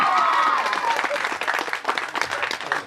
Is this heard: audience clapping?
yes